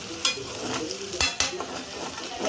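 A spatula stirring egg podimas with onion in a frying pan: steady sizzling, broken by sharp metallic scrapes and taps against the pan, close and without talk.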